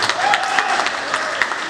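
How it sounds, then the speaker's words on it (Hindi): A seated audience claps for a speaker at a Hindi literary stage event, a dense even patter of many hands with a few sharper claps standing out, no voices over it. "आपके लिए मैं अकेले ताली बजाता हूँ"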